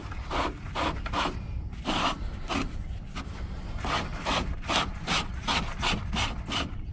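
Plastic Davco 382 water fuel separator filter housing on a 2008 Detroit 60 series engine being twisted loose by hand, giving a steady run of close, gritty rasping and rubbing strokes with no talk.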